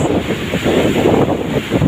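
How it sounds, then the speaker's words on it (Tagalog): Heavy surf from large ocean waves roars continuously while strong wind buffets the microphone, with no clear gaps. "ayan guys oh Laki ng mga alon"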